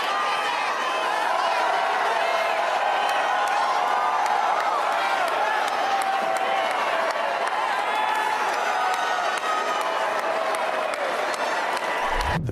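A large crowd of supporters at Capital One Arena cheers and applauds in a steady roaring wash of clapping, whoops and shouts that holds loud throughout, with voices blended into the noise.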